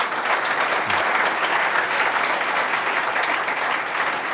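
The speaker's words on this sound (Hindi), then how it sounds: "अरे ताली तो जोरदार बजाओ नालायको।" Students in a room applaud steadily, a dense, even wash of clapping that holds at one loud level for the whole stretch with no pauses.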